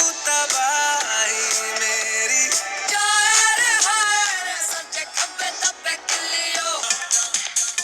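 A song with singing and instruments plays from a Layers Anarc smartwatch's small speaker, thin and bright with little bass, steady and fairly loud.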